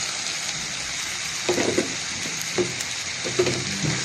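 Garlic and tomatoes fry in a pan with a steady loud sizzle, interrupted by a few soft scraping stirs of the spatula, close up and without talk.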